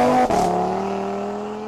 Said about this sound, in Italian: Suono motore, attenzione